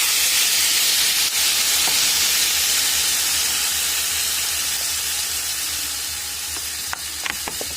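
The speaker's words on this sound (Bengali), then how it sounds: "এবার আমি দিয়ে দিচ্ছি এর মধ্যে জল" Water poured into a hot pan of papaya, potato and dal curry sends up a loud, steady hiss and sizzle that holds throughout, with a few faint clinks near the end.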